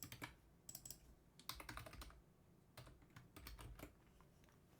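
Rapid keystrokes on a computer keyboard, tapping out the Control K then Control D shortcut in quick clustered bursts, close and fairly quiet with short pauses between groups.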